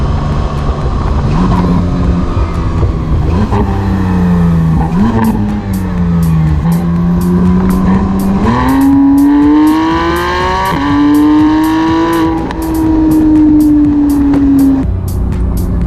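A Porsche 911 GT3 (991.1) engine revs hard and climbs through the gears, its loud, rising whine holding close and continuous throughout.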